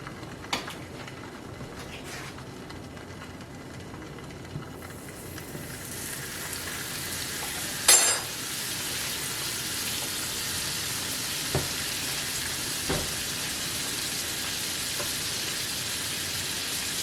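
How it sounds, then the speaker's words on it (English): An egg fries in butter in a pan after being flipped; a steady, close sizzle swells in partway through, with a couple of sharp clicks from the pan along the way. "you're going to flip it over, and now it'll cook on the other side"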